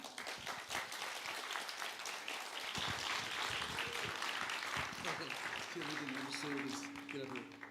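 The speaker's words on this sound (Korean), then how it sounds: "환영의 박수로 모시도록 하겠습니다" A church conference audience welcomes a speaker with applause, faint and distant, heard under talking. Near the end it thins out as a voice and some cheering come to the fore.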